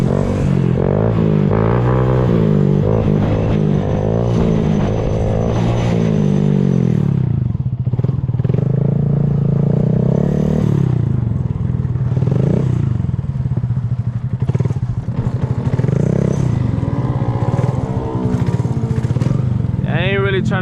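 Motorcycle engine revving loud and close in first gear during a wheelie, with clattering and scraping mixed in and someone talking over it throughout.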